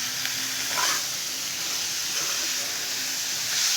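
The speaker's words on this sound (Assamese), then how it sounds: "কবিখিনি দি দিম কবি আলু দি দিলোঁ অকণমান লাহে লাহে লৰাই দিম" Cabbage and potatoes sizzle steadily in hot oil in a pan for an Assam-style catla fish curry, with a continuous broad frying hiss and occasional soft scrapes of slow stirring.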